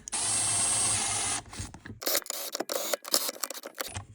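Bolts on the cover of a Polaris Sportsman 550 ATV being tightened with a power tool: a steady whirring drive followed by choppy bursts of ratcheting and scraping, close by.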